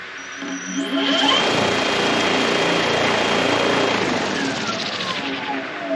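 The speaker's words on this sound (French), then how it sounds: "l'hélice va se mettre à tourner" An electric motor spins a model aircraft propeller under throttle, rising quickly to a steady, loud, close buzzing whine that holds without a break.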